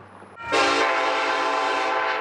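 A loud, sustained train horn blaring beside railroad tracks, starting after a brief quieter lead-in and holding steady at full strength, close and continuous.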